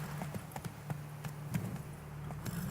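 Horse hooves clip-clopping along in the fantasy game The Witcher 3, a steady irregular run of hoof strikes at a brisk pace over a low droning hum, close and moderately loud.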